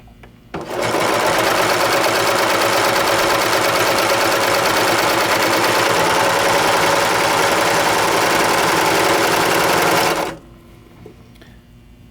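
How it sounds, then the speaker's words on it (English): A serger stitches a fine two-thread overlock seam on sheer fabric, starting abruptly and running loud and steady at a rapid mechanical whir for about ten seconds before stopping cleanly. "I'm going to do my 2-thread overlock on my sheer fabric"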